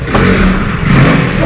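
A motorcycle engine revs loudly and close by in a steady, rough mid-pitched drone lasting about a second and a half, with no talking over it.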